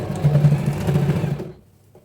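A sewing machine running a rough stitch joining the lining edges of a lehenga, a steady close mechanical whirr with a rapid needle chatter that stops abruptly near the end, with no talking.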